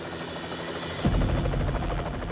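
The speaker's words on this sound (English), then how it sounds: "is the helicopter, does he think he's directly over the LiDAR truck?" A helicopter flying overhead above a truck in open country, a faint rotor buzz that swells abruptly into a louder, closer, steady thumping drone.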